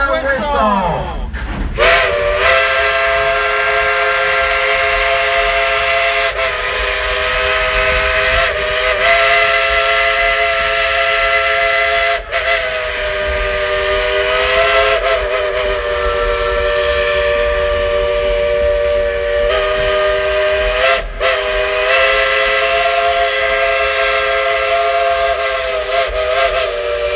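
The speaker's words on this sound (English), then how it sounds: "Would you like to hear the engineer play a tune on that Baldwin locomotive whistle?" A Baldwin steam locomotive whistle on the Dollywood Express, the engine called Cindy, sounds loud and close, playing a tune of long sustained chime notes. Brief gaps separate the phrases, and a steady steam hiss runs beneath.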